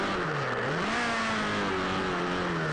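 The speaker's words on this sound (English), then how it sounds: "Sounds like his throttle is just stuck there after the crash" An open-wheel race car's engine, throttle stuck after a crash, holds a loud, sustained high-rev drone from an onboard camera, its pitch dipping slightly and then rising and staying steady.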